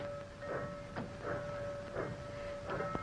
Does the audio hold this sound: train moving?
yes